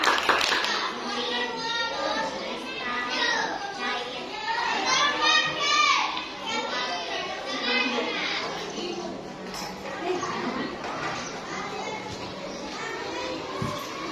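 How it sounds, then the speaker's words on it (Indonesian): Schoolchildren in a classroom clap together in bursts, with lively overlapping kids' voices and an adult teacher talking over the clapping. "Jadi tepuk tangan dulu buat semuanya."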